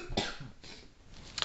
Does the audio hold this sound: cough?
yes